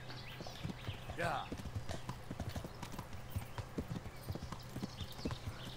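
Horse hooves clip-clop in a steady trot in the medieval game Kingdom Come: Deliverance on PS4, the regular thuds running throughout over a low game ambience, with a brief whinny-like sweep and quiet talk over it.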